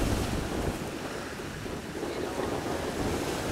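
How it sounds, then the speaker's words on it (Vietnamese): Large sea waves and gusting wind at sea during storm no. 3, a steady broad rush of surf and wind buffeting the microphone, moderately loud throughout. "Hôm nay thì nói chung là sóng nó cũng khá là lớn các bạn"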